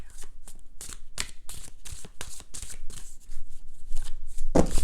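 Oracle cards being shuffled by hand in repeated brisk riffling bursts, close and crisp, with a sharper clatter near the end.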